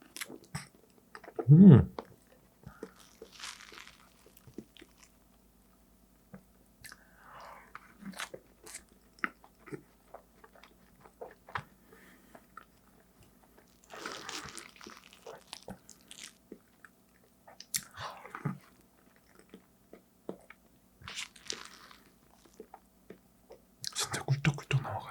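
Mango crepe cake being eaten up close, with soft intermittent chewing and moist bites in scattered bursts between quiet gaps, plus a brief murmur from the eater.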